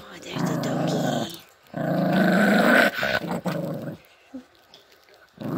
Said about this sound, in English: Oh, there's a doggy.